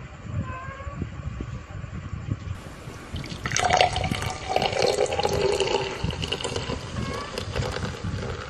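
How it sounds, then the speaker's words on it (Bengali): Sprite is poured into a glass, a quiet fizzing, gurgling pour that swells partway through, then settles into bubbly hiss over faint background noise. "তারপর তো আমি স্প্রাইটটা ঢেলে নিই।"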